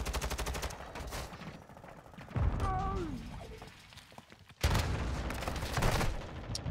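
Rapid bursts of automatic gunfire in the shooter game Call of Duty, dense crackling volleys near and loud at the start, pausing briefly, then erupting again in sustained fire, with a short whistling tone in between.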